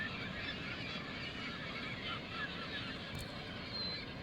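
Seabirds, likely gulls, squawk and honk in a dense, continuous chorus on a Vancouver Island West Coast Trail beach, a steady wash of overlapping calls with surf-like background noise and no talking.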